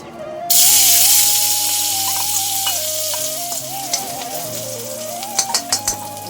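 Onions hit hot oil in a village-style pork curry and burst into a loud, sudden sizzle that settles into steady frying, with a few stirring clanks near the end and a faint tone running underneath.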